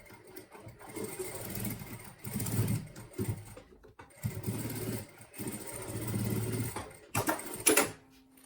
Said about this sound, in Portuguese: vou passar exatamente na mesma costura que a gente usou